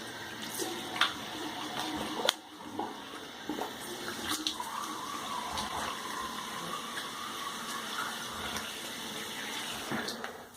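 Tap water runs steadily over an alum block being rinsed while shaving with a Gillette Super Speed Red Tip safety razor, a continuous splashing hiss at close range with a few brief clatters, no talk.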